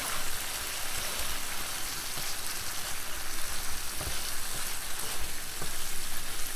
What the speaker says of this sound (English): Next, we're going to use Korean pepper paste, half spoon. Now mix that together.